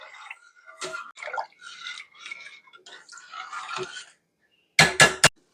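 Broth and water are poured into a pot of white bean soup with a steady splashing rush for several seconds, then a few sharp clinks of a spoon stirring against the pot, with no talking.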